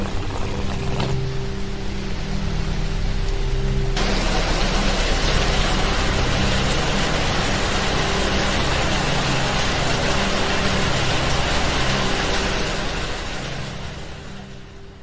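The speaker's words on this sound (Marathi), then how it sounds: "यावर्षी पाणी आलं, एवढा पाऊस पडतो" Heavy monsoon rain hisses onto a flooded street in Chiplun, a dense, steady wash of noise under a low rumble, holding constant before easing off at the end.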